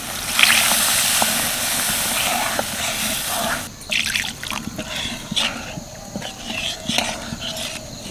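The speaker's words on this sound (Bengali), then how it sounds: "এবার দিয়ে দেবো এর মধ্যে জল" Water pours in a rushing stream into spiced kofta curry gravy for a mixed vegetable dish, then stops, followed by light clinks and stirring sounds in the pan.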